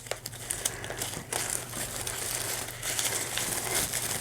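A plant shipping package is opened by hand, with close, continuous crinkling and rustling of paper and plastic wrapping, light crackles and tearing bits, and a faint low hum underneath.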